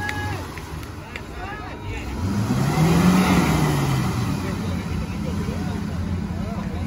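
A heavy V8-powered UAZ off-road vehicle at an off-road competition revs its engine with a rising and falling growl, loud and near, with people talking and a crowd murmur mixed in.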